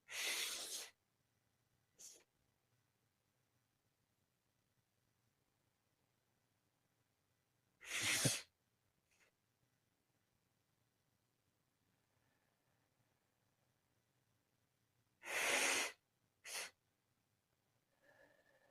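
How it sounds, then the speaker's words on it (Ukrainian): Deep breaths during a breathing exercise, drawn in through the nose and pushed out through a narrow gap between the lips. Three loud, close breath cycles come with long quiet pauses between them, and each is followed by a short softer puff. "Кожен вдих ми робимо носом. І видихаємо через невеличку щілинку повітря через рот."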